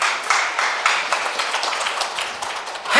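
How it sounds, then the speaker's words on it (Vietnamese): A church congregation claps together during a sermon, a dense, steady patter of many hands that carries on for the whole stretch at moderate loudness, with no voices rising above it. "Hãy vỗ tay cảm tạ đi Chúa Trời."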